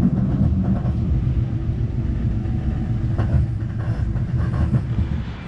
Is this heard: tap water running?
no